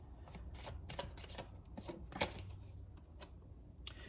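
A deck of tarot cards being shuffled by hand, a run of soft riffling bursts and crisp flicks, close and fairly quiet, with no talk.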